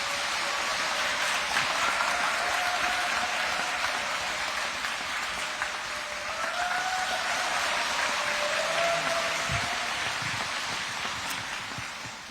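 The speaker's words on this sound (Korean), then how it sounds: "큰 박수로 맞이해 주시기 바랍니다" An outdoor rally crowd applauds a pastor in a long, steady patter of clapping, fairly even and a little distant, and a few faint whistles or cheers rise above it.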